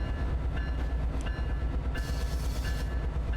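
A Metrolink F59PHR diesel locomotive runs in Train Sim World 5, a steady low rumble with faint rhythmic clatter and a few brief higher accents, heard alone at moderate level.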